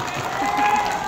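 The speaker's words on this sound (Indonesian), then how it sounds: "Tepuk tangan." Dense, steady applause from an audience at an Indonesian political talk, filling the whole moment at a constant moderate level, with a murmur of voices mixed in.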